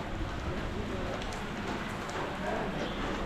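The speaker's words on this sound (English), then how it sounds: "it starts raining heavier." Heavy rain falls steadily on the streets of Doumen Old Town in Zhuhai, China, a dense, continuous hiss with spattering on nearby surfaces, loud and close, and faint voices underneath.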